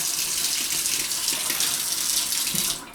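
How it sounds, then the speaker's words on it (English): Tap water runs steadily into a sink while eggshells are rinsed out, a loud close splashing rush with faint clinks, cut off near the end as the flow stops. "you just want to rinse out any remaining egg that might be inside there"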